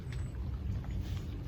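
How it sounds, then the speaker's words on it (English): Steady overnight rain falling outdoors, a dense continuous patter and hiss at moderate loudness with no voices. "It hasn't stopped raining literally all night"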